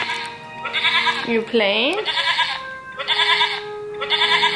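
A goat bleats at a child's birthday party, giving several wavering cries one after another, close and fairly loud, with a short spoken question between them.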